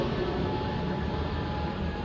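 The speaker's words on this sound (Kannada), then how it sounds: "ಏರೋಪ್ಲೇನ್ ಹೋಗಲಿ." A passenger airplane passing overhead in a town in Karnataka, a steady broadband engine roar with a faint tonal whine, fairly loud and unbroken for a couple of seconds with no talk.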